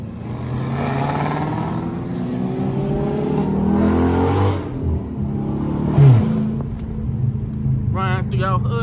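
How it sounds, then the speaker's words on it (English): Dodge Hellcat and Scat Pack muscle cars rev their engines while driving through a neighborhood: loud, rising and falling engine roars and swells, one sharp bark near the end, with people talking and shouting over the noise. "Run through your hood with a Hellcat and Scatpack."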